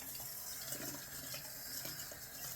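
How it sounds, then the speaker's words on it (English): Tap water runs steadily into a sink while a shaving brush is rinsed out under it, a close, continuous splashing wash with no talk. "let's wash out the brush"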